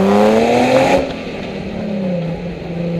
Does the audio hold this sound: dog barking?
no